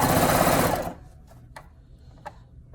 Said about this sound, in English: so we will sew from the corner